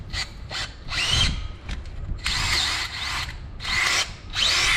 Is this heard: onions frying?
no